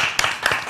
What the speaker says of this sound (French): moi, je vais encore applaudir.